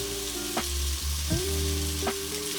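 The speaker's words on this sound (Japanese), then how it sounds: "フライパンのカーブに合わせて、で、これでゆっくり火を入れていきます" Pork back fat renders in a frying pan with a soft, steady sizzle and crackle, a few brief bumps of the pan or tongs heard close by, quiet and without talk.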